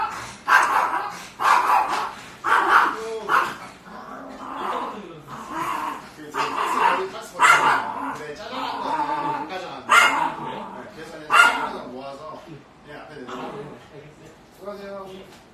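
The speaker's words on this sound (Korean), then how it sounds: "그래서 낯선 사람 보면 처음에 짖어요." A small, timid pet dog barks at a stranger in a nail salon, giving a run of sharp yaps and yips mixed with whimpers over about fifteen seconds, with people talking throughout.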